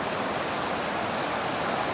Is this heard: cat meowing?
no